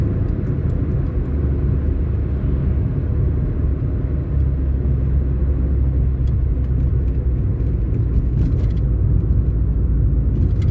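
A car heard from inside on a real-time drive from Barry to Hanley Farm, its steady low engine and road rumble running continuously and fairly loud with no talk.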